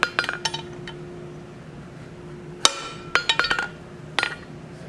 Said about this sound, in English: It's definitely fighting the hammer blows